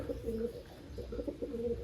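Soft, low cooing from a female pigeon repeats in a gentle rhythm, close and fairly quiet, with no talking.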